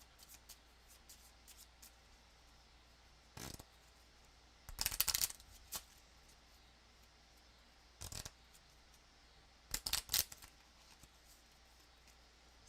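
Gloomhaven: Jaws of the Lion board game cards being shuffled, a few short riffling bursts with brief clatters spaced over a quiet background, close and without talk.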